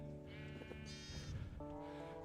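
Sheep bleating in Minecraft, a couple of wavering blocky bleats rising over steady background game music, close and clear with no talk.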